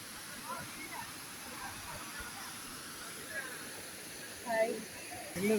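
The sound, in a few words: Kanthanpara Waterfalls in Wayanad, Kerala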